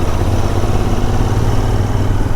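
Steady, loud engine drone of a motorcycle on a road ride, a continuous low rumble holding even throughout with no clear rise or fade, heard alone without talk.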